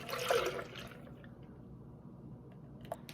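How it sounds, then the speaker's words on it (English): Strawberry ice cream mixture is poured into an ice cream maker, a soft liquid splash and trickle loudest at the start, then settling into a quieter steady flow with a small clink near the end. "Now we're just going to pour our mixture in."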